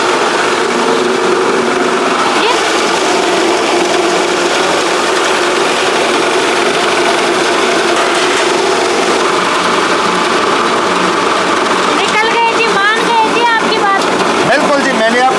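A rice mill machine runs continuously, sorting paddy and cleaning rice with a steady mechanical whir and rattle, while someone talks loudly over it throughout.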